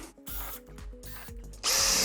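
A power drill drives screws into a standing seam metal ridge sheet on a roof, whirring up and slowing in short bursts before a loud, sustained high-pitched spin at the end, close by.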